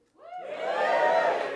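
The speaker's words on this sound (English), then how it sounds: "give us a cheer if you're in." A comedy club audience breaks into a loud cheer that swells quickly after a quiet start and holds steady, a dense crowd roar of whoops and shouts with no single voice standing out.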